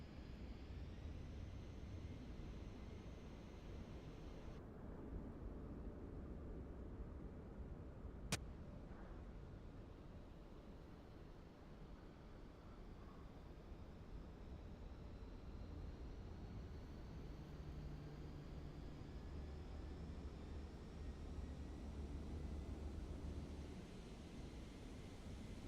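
An aircraft flyby in Microsoft Flight Simulator comes through as a faint, steady engine drone with a slowly shifting tone, heard alone apart from a single sharp click partway through.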